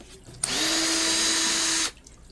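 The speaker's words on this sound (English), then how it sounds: "now we got to get all these little screws out" Power drill backing small number 6 screws out of a cargo trailer cabinet door: one steady, loud, whirring run of about a second and a half, starting abruptly and cutting off cleanly, with quiet room tone before and after.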